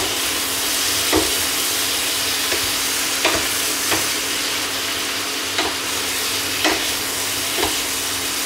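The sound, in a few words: stir-frying crispy pork belly with silk squash and onions on high heat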